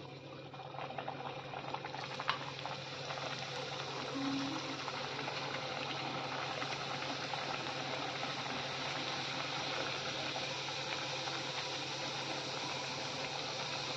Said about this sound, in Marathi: आपलं तेल छान तापलेलं आहे. आता आपण पुऱ्या टाकून घेऊया.